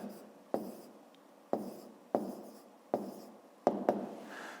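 A pen writes a number in a fifth-grade math exercise, producing six sharp tapping strokes at a steady pace, each followed by a short scratch fading out, close and quiet.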